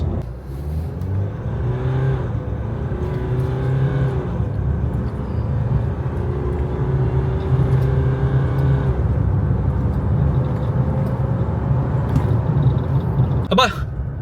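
A 2025 Nissan Navarra PRO-4X pickup accelerating from 0 to 100, the engine rising in pitch through several gear changes, loud and steady from inside the cabin with a brief click near the end.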